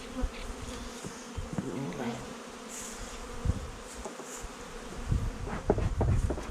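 A dense, steady hum of many honey bees buzzing close by around a hive, continuous throughout with small surges and no speech.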